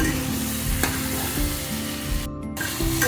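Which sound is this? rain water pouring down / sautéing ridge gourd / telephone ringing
sautéing ridge gourd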